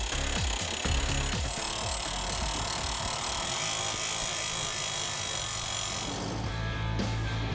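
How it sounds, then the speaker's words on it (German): A steady, loud grinding roar of a walking excavator's drill boring five meters into rock, harsh and continuous, with a rough rattling texture that eases slightly near the end. "Fünf Meter tief muss sich der Bohrer in den Fels fressen."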